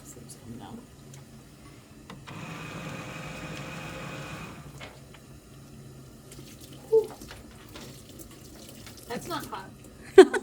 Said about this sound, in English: Then you're going to wash your hands.